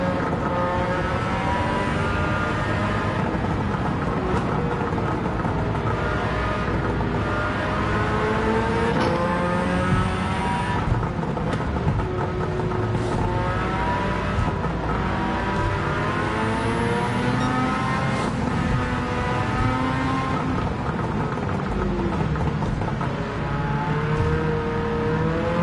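Race cars in Gran Turismo 7 roar around the Tokyo track in a crowded pack, engines revving loud and steady throughout as other cars pass close by.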